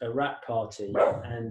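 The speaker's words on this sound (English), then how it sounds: "sorry, that's the dog." A dog barking a few times close by, mixed in with someone speaking over it.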